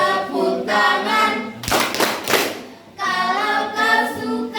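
A school class claps hands during a chemistry cheer, a burst of mixed, overlapping applause for about a second. Loud group singing comes before and after it.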